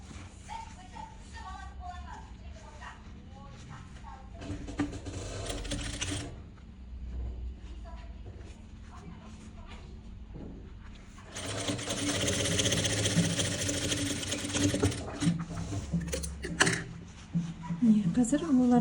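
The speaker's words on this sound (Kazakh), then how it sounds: "Енді келесі жақтың вытачкасын тігеміз." Sewing machine stitching a dart on a vest, running in bursts of steady mechanical whirring with brief pauses, loudest in a long stretch near the end, close and clear with faint talk now and then.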